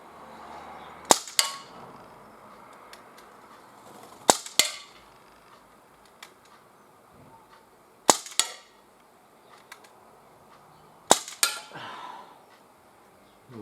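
A Gamo MP-9 air pistol fires outdoors at a can, four sharp, close cracks spaced a few seconds apart, each followed quickly by a metallic clink, with quiet background between shots.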